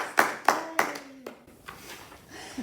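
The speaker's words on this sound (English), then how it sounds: "Should we just give them a round of applause?" A small group claps briefly for birthdays, a few sharp sparse claps close by that quickly thin out and fade, with a faint voice near the end.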